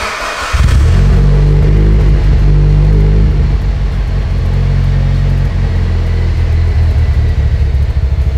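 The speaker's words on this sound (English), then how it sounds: "fire it up, get that fuel pressure set" A car engine, just back from a fuel pump repair, catches about half a second in and then settles into a loud, steady, deep idle rumble that runs to the end with no pauses.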